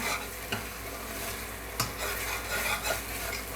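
Masala roasting in a pan for an aloo pakora curry, stirred with scrapes and clinks from a utensil over a steady sizzle, with a few sharper knocks against the pan.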